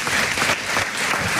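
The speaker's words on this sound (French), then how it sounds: "On peut l'applaudir" Studio audience at a French talk radio show breaks into dense, loud, sustained applause that fills the whole moment without a break.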